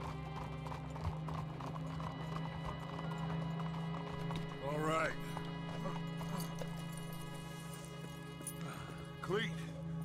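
Horse hooves in Red Dead Redemption II clop in a steady, continuous rhythm at low level, with a couple of brief whinny-like calls and faint voices in the background.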